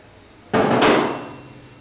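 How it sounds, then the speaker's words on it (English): A single sharp metallic tap on a nut, tightening it over a rubber bushing on a brake lathe rotor setup, close and brief with a short ringing decay. "Give the nut one tightening tap"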